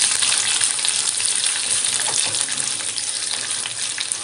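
Dry red chillies and green chillies sizzle and crackle in hot tempering oil for lemon rice, a loud, steady frying hiss filling the whole stretch with no talk.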